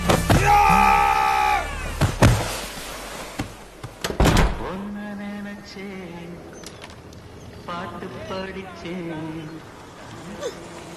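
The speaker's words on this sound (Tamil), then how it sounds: "சாத்ரா கதவை." A cartoon door slams shut amid shouting voices in an animated wedding comedy scene, a sharp thud about four seconds in, followed by ongoing talk and music.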